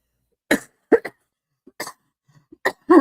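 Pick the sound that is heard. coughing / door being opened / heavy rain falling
coughing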